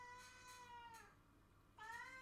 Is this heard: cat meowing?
yes